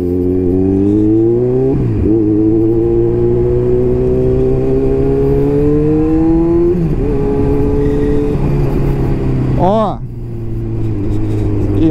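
A Kawasaki Z900 motorcycle with a full G-Scape exhaust revs loud and close, rising and falling in pitch over a steady rumble, with a sharp throttle blip near the end.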